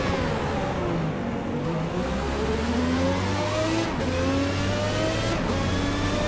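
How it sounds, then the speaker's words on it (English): A Ferrari F1 car's engine in a racing video game revs steadily, its pitch rising and falling between shifts, loud and continuous with no talk over it. "Driving this F1 car, I suck big time."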